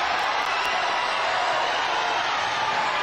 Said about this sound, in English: And people were cheering for Sid. You can hear that.